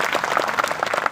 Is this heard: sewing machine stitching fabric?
no